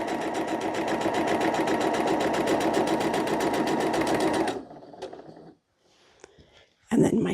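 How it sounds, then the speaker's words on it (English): Sewing machine stitching a quarter-inch seam on a quilt block, a fast, steady mechanical whir of close, rapid needle strokes for several seconds that then stops, followed by small handling sounds. "Starting up there, we're going to sew 1/4 inch all the way down."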